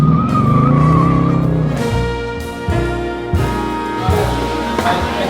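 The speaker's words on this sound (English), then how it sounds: "All right, cold start. Windows down, first pull in the Hemi." A Hemi-engined car pulling hard from a cold start, the engine roaring loud and close and climbing through revs with several sharp gear-change drops and rises, with no one speaking over it.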